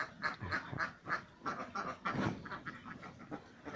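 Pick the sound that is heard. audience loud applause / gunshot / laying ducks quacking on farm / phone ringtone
laying ducks quacking on farm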